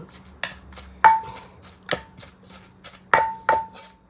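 Chili and garlic pounded in a mortar, a series of sharp, irregularly spaced thuds with faint ringing knocks, close and alone with no talking.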